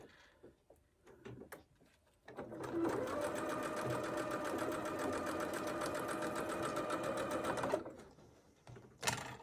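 A sewing machine stitching small 1-inch fabric squares for a scrappy quilt runs steadily for about five seconds with a fast mechanical rattle, framed by brief handling clicks before and after.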